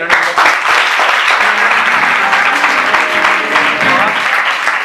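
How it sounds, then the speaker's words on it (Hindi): Loud, dense applause fills a training seminar hall, a continuous roar of many hands clapping close by for several seconds. "जोरदार तालियां के लिए"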